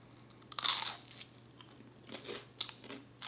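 Close, crisp crunching of fried vegan soy chicharrones being bitten and chewed, a loud first bite followed by quieter crackly chews.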